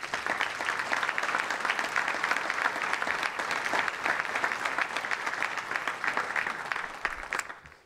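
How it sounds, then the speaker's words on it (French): Sustained audience applause fills a hall at a municipal New Year's wishes ceremony in Le Cannet, a dense, steady clatter of many hands clapping for several seconds before tapering off at the end. "je fais appel à vos applaudissements."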